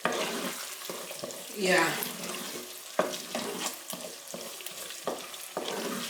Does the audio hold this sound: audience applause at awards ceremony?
no